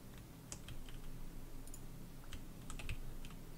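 Mouse clicks while playing Minecraft, a scattering of quiet, sharp ticks spread irregularly over a low steady background hum, some in quick pairs, with no voice.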